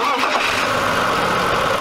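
A BMW engine cranks and catches, settling into a loud, steady mid-pitched running drone close by, with no pause or break through the whole short stretch.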